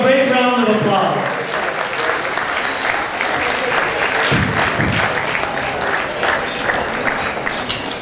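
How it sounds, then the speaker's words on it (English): Audience applause for an award recipient at the Premio Telesio La Piazza ceremony, loud and sustained clapping from a crowd filling the whole stretch, with a brief voice at the start. "Let's give her a great round of applause."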